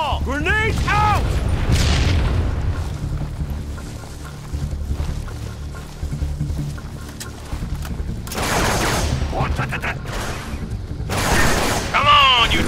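Grenade blasts in the Halo 3 campaign of Halo: The Master Chief Collection: a heavy, continuous low rumble of combat with two sharp, loud bursts late on, while voices shout over the opening and closing moments.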